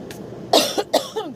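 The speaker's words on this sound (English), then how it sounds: "clear my throat" A short, close throat clearing: a couple of harsh rasping bursts with a brief pause between them.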